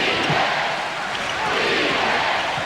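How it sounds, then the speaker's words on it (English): A basketball arena crowd at a 1996 NBA Eastern Conference Finals game between the Bulls and the Magic roars in a steady, dense wash, chanting for defense without a break. "Chant of defense from the crowd."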